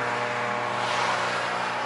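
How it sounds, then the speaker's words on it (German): Road traffic near West Point in the USA, cars rushing past in a steady broadband whoosh of tyres and engines, fairly close and continuous, with no talking over it. "Fucking Autos."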